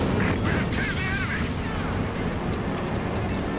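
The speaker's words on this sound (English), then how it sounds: "Oh, that's not precision artillery, that's P-47s." Strafing run by P-47 aircraft in Company of Heroes 2, a dense continuous barrage of gunfire and explosive rumble filling the whole stretch at steady loudness, with a faint whistling sweep early on.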